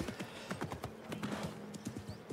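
Horse hooves clip-clop in a quick, irregular rhythm as a mount is ridden in Assassin's Creed Mirage. A faint whinny appears over low game ambience, with no talking.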